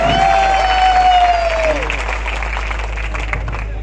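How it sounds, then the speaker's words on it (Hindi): A crowd at a political gathering in Jodhpur claps with both hands, a dense burst of applause that carries on steadily and thins slightly toward the end, with a voice briefly audible near the start. "मैं चाहता हूं आप सभी एक बार दोनों हाथ से ताली बजाकर भाई अक्षय भाई का भी स्वागत किया जाए"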